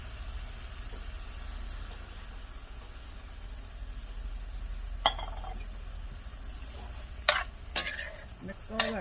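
Diced tomatoes and green chilies being stirred through a sizzling pan for sloppy joes, a steady close fry hiss with a few sharp scrapes and clinks of the spoon near the end.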